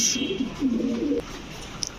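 Pigeons cooing at a pigeon market, a soft low throaty burble close by in a few rolling bursts over a steady crowd murmur.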